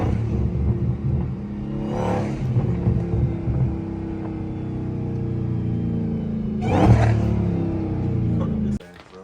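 A supercharged second-generation Dodge Hellcat idles with a steady rumble, then revs up in two loud bursts, blower whine rising over the engine, while people talk nearby.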